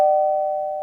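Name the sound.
doorbell ringing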